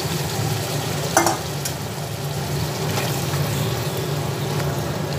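Marinated chicken cooking in a little water in a pan for chicken korma, giving a steady, close sizzle and bubbling with a brief clatter near the start and no talking.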